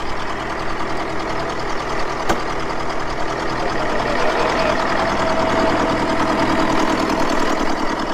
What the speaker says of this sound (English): He came around for a cup of tea, managed to get another old tractor running.